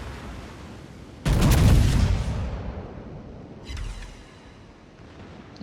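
A battleship's heavy naval gun salvo in World of Warships booms loudly and rumbles away, followed by a fainter second report of distant gunfire.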